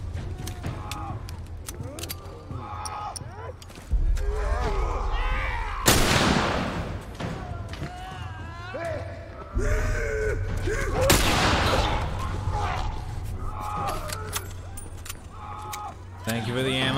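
Gunfire in The Last of Us, loud broadband bursts near the 6 and 11 second marks among continuous game sound and music, with voices talking throughout.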